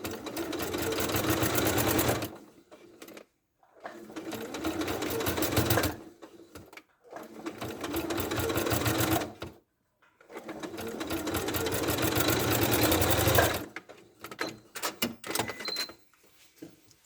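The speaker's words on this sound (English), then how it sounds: "So I'm going to sew over the end of the antenna." A sewing machine stitches over the end of a fabric ladybird's antenna in three long, loud runs of rapid even clatter separated by short pauses, then a few brief bursts near the end.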